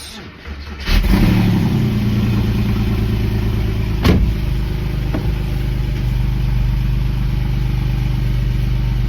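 A Porsche 997 flat-six starts after being left standing for a long time and then idles loudly and steadily with a rapid ticking from tappy lifters. A sharp knock is heard around four seconds.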